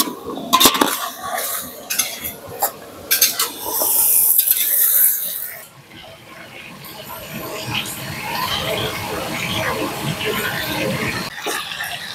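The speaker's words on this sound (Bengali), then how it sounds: "শুকনো লঙ্কা, সাদা জিরে, সুন্দর করে আলুগুলো ভেজে নেব।" Potatoes fry in a pan with dry red chillies and cumin seeds. Sharp clattering stirs against the pan come first, then a rushing hiss settles into a continuous, moderate sizzle.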